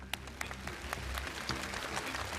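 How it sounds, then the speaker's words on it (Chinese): A studio audience on a CCTV televised science quiz show bursts into steady, sustained applause, with dense overlapping claps filling the room for the whole stretch. "我相信现场响起的掌声就是对韦坤杰的肯定"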